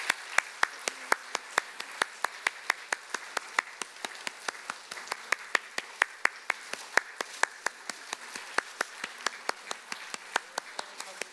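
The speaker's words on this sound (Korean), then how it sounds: "우리 선물 전달하실 때 큰 박수로 한번 환영해 주시기 바랍니다." Church congregation applauds during a Sunday service gift presentation, a steady run of sharp, evenly spaced claps at moderate volume in a quiet hall.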